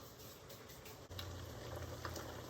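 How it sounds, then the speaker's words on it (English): Pasta boils in a pot of water, a faint, steady bubbling and soft pattering that thickens after the first second, heard alone at low level. "pasta is boiling away."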